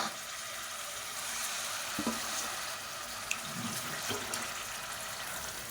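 Water is poured into a pot of masala with frying chicken for a chicken curry. It makes a soft, steady splashing and sizzling hiss with a few faint clinks, and no one speaks.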